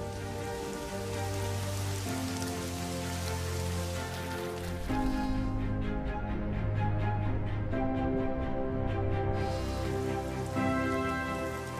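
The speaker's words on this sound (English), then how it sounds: "Nearly 1 trillion tons of rain falls out of the sky" Heavy Asian monsoon rain pours down in a dense, continuous hiss under a sustained music bed, with no break across the whole stretch.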